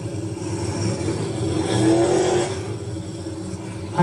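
Holly Porter's race car restarting after a spin at a dirt-track feature race in Ohsweken, its engine revving up to a loud peak and easing back, heard from mid distance amid general track noise.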